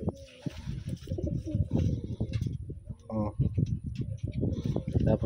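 Wantai racing pigeons in a loft coo repeatedly in low, soft bursts, close by, while someone talks over them throughout.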